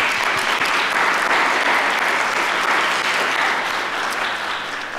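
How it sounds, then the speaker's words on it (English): Dense, loud clapping from a crowd at a startup pitch competition fills the room continuously, holding steady before tapering slightly at the end. "give them an applause"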